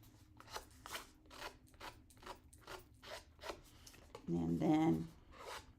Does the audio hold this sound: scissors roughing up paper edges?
yes